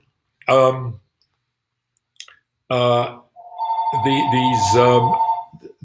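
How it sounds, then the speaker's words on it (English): A mobile phone rings in a lecture hall, its steady electronic tone sounding for about two seconds near the end, while the lecturer speaks in short bursts before and over it. "my phone would not stop ringing"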